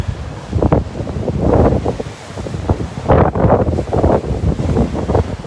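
Strong gusts buffet the microphone in rough, rumbling bursts that swell and fade, loud and close, with no voices present, at Point Mugu.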